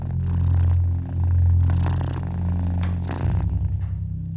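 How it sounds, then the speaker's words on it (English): A cat purrs loudly and close up, a low, steady rumbling drone that rises and falls with each breath, with no talking. "The loud purring in Magpie's ear lulls her to sleep in a matter of minutes"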